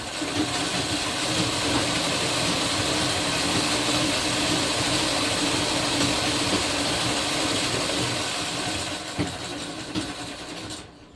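Sewing machine running a long continuous line of double stitching on a kurti, a steady mechanical whir close by that slows and stops near the end, no voices.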